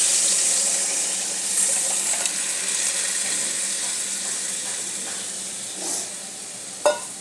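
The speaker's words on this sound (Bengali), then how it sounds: "ডালটা আমি নুন হলুদ দিয়ে রেখেছিলাম এই দেখুন ডালটা এবার আমি এতে ঢেলে দিলাম" Salted, turmeric-soaked moong dal is poured into a hot pan for a fish-head dal, giving a steady hissing sizzle and watery bubbling with a few small splashes, close and with no talk.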